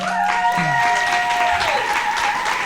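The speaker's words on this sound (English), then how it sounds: "Let's give a round of applause to Sarah Walker." Applause from an audience fills the clip, a continuous wash of clapping mixed with sustained musical tones that fade out.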